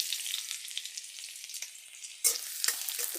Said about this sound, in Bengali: রসুন কুচিটা আগে দিয়ে দিচ্ছি